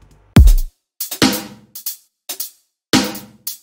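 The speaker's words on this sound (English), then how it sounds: "I recorded a loop of my basic drums," A recorded loop of basic drums: a heavy low kick opens, followed by snappy snare and tom-like hits in a steady groove with a repeating pattern, loud and dry with no talking.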